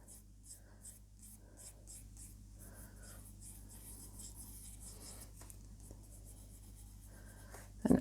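Pencil sketching a lettering outline on paper: soft, steady scratchy strokes in short bursts, close and quiet, with a brief louder knock at the very end.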